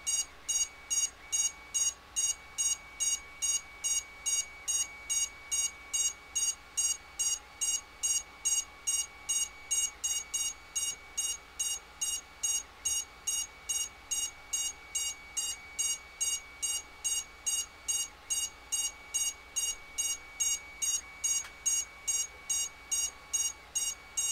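A DQUAD drone keeps beeping after its battery is connected: a long, steady run of evenly spaced high chirps repeating about twice a second, close and clear over a faint hum, with no voices.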